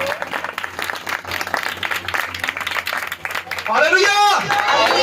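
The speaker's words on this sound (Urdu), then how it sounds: "ہم زوردار تالی بجا کر خدا کے نام کو مبارک کریں" Church congregation claps loudly in praise, a busy crowd applause running under a preacher's raised voice, with a swell of vocal exclamation near the end.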